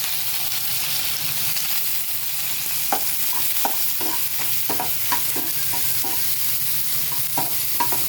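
Onions and green chilies fry in plenty of oil for a potato palya, with a steady soft sizzle broken by sharp scraping stirs of a spoon against the pan.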